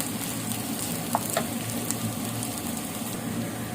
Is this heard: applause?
no